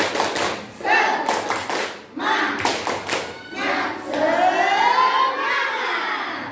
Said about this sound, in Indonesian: supaya semangat, kita bertepuk semangat dulu. Tepuk semangat.